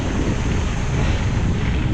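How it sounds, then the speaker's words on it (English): A river flows steadily in the background at a campsite on a southern Virginia bike trip, a loud, constant broadband rush that stays even and unbroken, with no speech. "Listen to that river in the background, fantastic."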